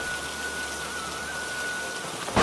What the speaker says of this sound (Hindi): इतनी भारी बारिश हो रही है।